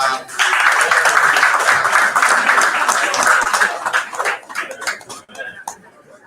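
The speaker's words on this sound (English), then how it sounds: "Another round of applause for." A crowd at a pro athlete investor panel event gives another round of applause, steady dense clapping that stays loud for about four seconds, then breaks into sparser, uneven claps as it winds down.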